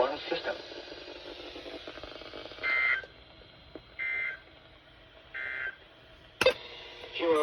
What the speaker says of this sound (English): the National Weather Service has just activated the public warning alarm tone